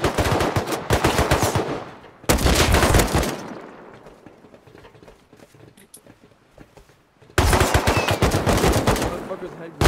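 Loud, close machine gun fire in a video game comes in long rattling bursts, first at the start, then after a brief pause, then again following a quieter stretch of a few seconds.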